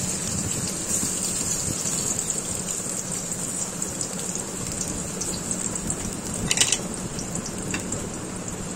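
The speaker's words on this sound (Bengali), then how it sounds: "তেলও গরম হয়ে গিয়েছে, এখন দিয়ে দিব পেঁয়াজ কুচি।" Chopped onions sizzling in hot oil in a pan on medium heat, a steady, dense crackling hiss that stays even throughout, with one brief louder spatter near the end.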